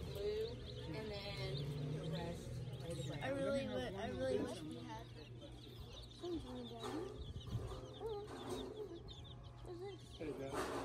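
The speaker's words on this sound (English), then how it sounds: "Going into your local hardware store and there's chickens everywhere." Lots of chicks chirp and peep in a busy cluster inside a hardware store, mixed with clucking, while people talk nearby in the quiet indoor space.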